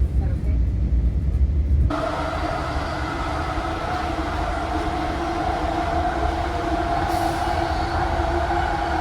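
A New York City train rumbles along the rails with a steady roar and a high metallic whine, heard from inside the carriage.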